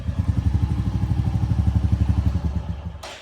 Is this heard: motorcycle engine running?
yes